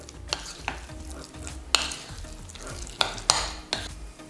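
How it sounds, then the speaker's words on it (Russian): A utensil scrapes and clinks around a bowl, sharp taps recurring irregularly over a soft sizzling background. "И также хорошенечко перемешиваем."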